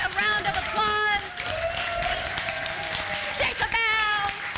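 An audience claps and cheers after an arts performance, with voices whooping and calling out over a steady wash of applause that runs the whole time.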